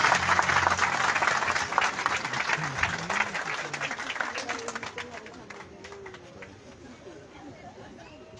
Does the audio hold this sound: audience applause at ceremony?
yes